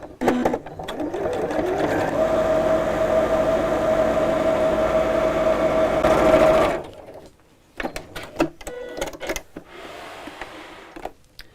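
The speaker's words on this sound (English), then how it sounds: "let's bring in the sewing machine, and I'm just going to stitch along one side here." A sewing machine stitches along one side of fabric for a simple storage pouch, a steady close motor whir running for several seconds, then stopping, followed by quiet handling noises.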